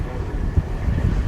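Wind blows outdoors on a cold night in a steady low rush, with soft gusty buffeting against the microphone and no voices.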